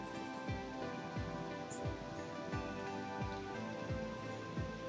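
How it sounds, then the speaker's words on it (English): Steady rain patters onto a covered porch, a dense continuous wash of drops with soft repeated thuds of heavier drips, no voices. "It just started to rain."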